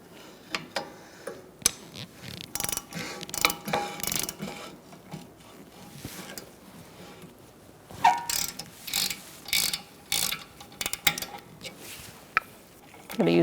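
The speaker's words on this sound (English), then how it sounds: "I'm going to use my socket and take them out the rest of the way" A ratchet and socket click in repeated short bursts, loosening brake caliper studs on a 2012-2019 Fiat 500 during a rear brake job, heard up close with brief pauses between turns.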